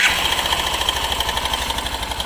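A Hero Super Splendor BS6 motorcycle idles with a timing chain problem, a loud, close engine putter with a fast rhythmic ticking rattle layered on top, steady and alone.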